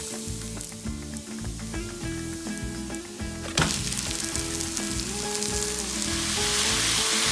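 Ground meat frying in a pan with softened green peppers and onions, a steady loud sizzle with crackling, rising in intensity midway as stirring begins, under a faint music bed.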